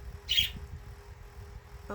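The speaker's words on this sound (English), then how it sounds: "I'm talking to my girl bird, Fluffy" A pet bird gives a brief loud squawk near the start, followed by faint chirps over low background noise; a person talks to it.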